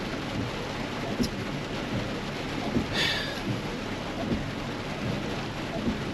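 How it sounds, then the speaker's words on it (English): Heavy rain pours steadily during a thunderstorm while a truck drives through it, with a dense constant wash of water, low rumbling beneath, and a few brighter splashes or cracks, heard from inside the cab. "the storm caught up to me"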